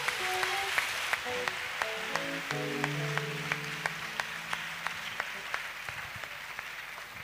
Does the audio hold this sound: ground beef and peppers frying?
no